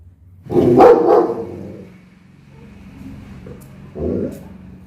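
Two dogs bark outside a house: a loud burst of several overlapping barks near the start, a quieter stretch, then a shorter bark later, heard from indoors.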